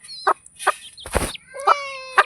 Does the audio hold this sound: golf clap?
no